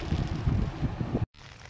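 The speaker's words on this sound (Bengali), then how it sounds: "ওইখানটা দাঁড়ানোই যাচ্ছে না, এত বাতাস।" Strong wind buffets the microphone on a cloud-covered hilltop at Lonavala, a loud rumbling gust roar that cuts out briefly and then returns weaker.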